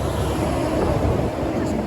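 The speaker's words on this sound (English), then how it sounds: "it is blowing a gale today, like it's proper been windy" Strong, gusting wind buffets the microphone on a roadside ride into a full headwind, giving a loud, constant low roar that swells and dips throughout.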